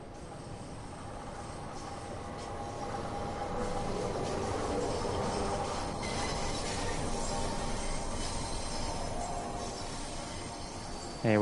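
A London Underground train in Train Sim World 5 runs steadily uphill into Piccadilly Circus, a continuous rumbling roll with rail noise and faint squeals, loud and close throughout with no talking.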